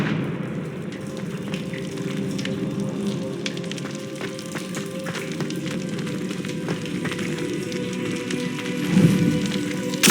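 Crackling fire in Hogwarts Legacy from a cast Confringo spell: a steady, sizzling roar like rain or frying, constant and fairly loud, with a brief swell of extra crackle near the end.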